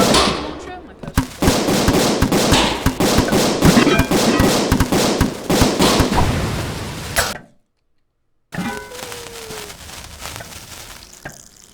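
A launcher weapon fires again and again in the Cooking Simulator kitchen, a dense, loud barrage of blasts and crashes for about seven seconds. A sudden silence follows, then quieter clatter and a rising whistle return.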